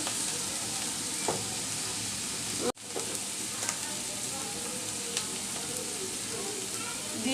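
Chicken frying in a pan with ginger-garlic paste and a little salt, producing a dense, continuous sizzle with a brief break and occasional stirring scrapes, close and loud, no speech.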